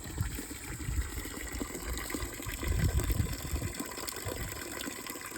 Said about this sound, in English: Got it cleaned and all the beautiful water coming out.